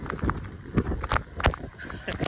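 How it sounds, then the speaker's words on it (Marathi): Strong gusting wind buffets the microphone in loud, uneven rushes during a heavy monsoon downpour, with bursts of broadband roar rising and falling several times over a couple of seconds and no talking. "पाऊस बघ कसला येतो आणि वारा सुटला खतरनाक वाला."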